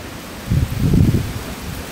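A strong gust of wind buffets an outdoor microphone, swelling into a low, rumbling roar for about a second before easing back to a steady breathy rush.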